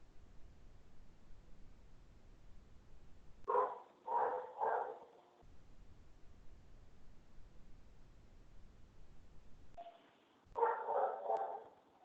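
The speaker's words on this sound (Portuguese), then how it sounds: "Aonde que esse cachorro tá latindo?" A neighbor's dog barks in two short bursts of several loud barks each, separated by a long quiet gap, heard from nearby against low background hiss.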